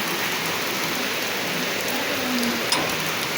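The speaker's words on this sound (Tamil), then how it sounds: "இதில் மழை பெய்யுது பாருங்க." Rain falls steadily at night on a village road, a dense even hiss with no pauses, broken once by a brief sharp tap near the end.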